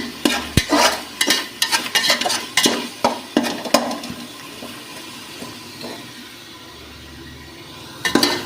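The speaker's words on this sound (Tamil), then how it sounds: "தக்காளியும் போட்டு சத்துனாலே நல்லா வதக்கட்டும்" Tomatoes sautéing in a pan for chicken biryani, with repeated scraping and stirring strokes of a spatula over a soft sizzle, the stirring easing off before a final few scrapes.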